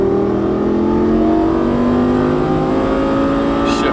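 A Lamborghini Gallardo Superleggera LP570-4 engine revs steadily under throttle on a track, a loud, continuous close-up drone with rising harmonic tones throughout.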